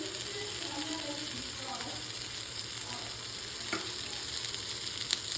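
Eggplant masala fries on a tawa with a steady, close sizzle and crackle, faint stirring scrapes now and then and quiet talk in the background.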